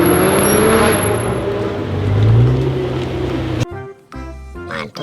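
A toy sedan car engine sound effect: a loud engine revving and running for a few seconds, after which a voice talks briefly.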